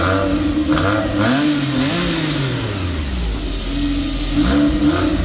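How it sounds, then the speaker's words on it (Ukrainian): A Porsche car engine runs steadily with rising and falling revs, its pitch sweeping up and down as it is throttled, loud and close with no voices. "Так, працює мотор."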